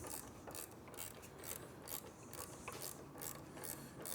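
A wrench works a nut off a foot peg bolt on a Triumph Bonneville motorcycle, producing quick, rapid metallic ratcheting clicks that repeat steadily and fairly faintly throughout.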